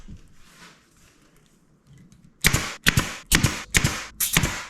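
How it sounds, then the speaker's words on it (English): Staple gun driving quarter-inch staples through extra upholstery stitching and foam into board inside a 1957 Chevy interior, five sharp loud close snaps in quick succession after a quiet stretch of handling. "I think I am going to staple this extra stitching right here."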